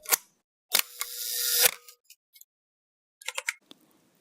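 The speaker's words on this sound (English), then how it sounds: "This is the sound of an old Pentax camera taking a photo." An old Pentax film camera fires its shutter with a sharp mechanical click, then the film advance lever winds with a short ratcheting rasp, followed by a few quieter clicks and handling sounds, close and isolated.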